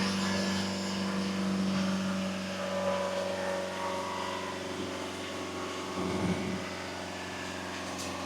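A Volvo XC60 engine is held at raised revs, a steady droning hum with a sustained tonal whine, continuous and moderately loud with slight surges, and no talk over it.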